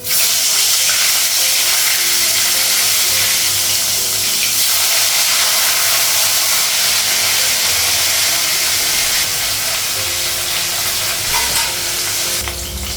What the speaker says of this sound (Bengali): এক সাইডে ভাজা হয়ে গেছে মাছটা।